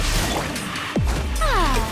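A sharp shattering crash from a video game, with a descending whooshing tone and rising glassy chimes, over a steady background music bed.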